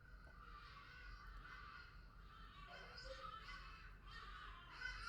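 Birds caw and honk outdoors, harsh repeated calls at a distance, faint over a steady background hum, with no talk.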